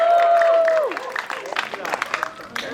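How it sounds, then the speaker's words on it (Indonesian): Audience applause at a film press event in Indonesia: a crowd claps in a brisk, uneven patter after a brief tone and some voice fade away, moderately loud and close. "Beri tepuk tangan yang meriah buat Eddie Kemon."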